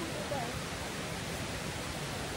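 The waterfall at 98 Falls rushes in a steady, dense roar that stays constant from start to finish, with people talking over it.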